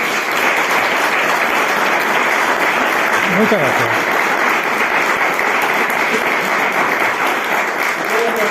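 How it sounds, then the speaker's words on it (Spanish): An audience applauds Sergio after a talk on the Grail and the kings of Aragon, with loud, sustained dense clapping throughout and a brief spoken thank-you over it. "yo creo que Sergio se merece un fuerte aplauso"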